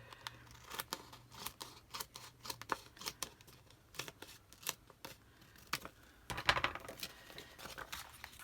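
Scissors snip through paper while an album page is trimmed, making a string of quiet, close, crisp cuts in an uneven rhythm, with no talking.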